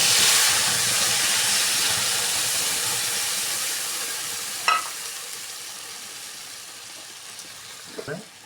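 Ginger, garlic and green chilli paste dropped into a hot pan while cooking a fish kalia, setting off a loud sizzling hiss that slowly fades, with a couple of brief clinks of a utensil near the end.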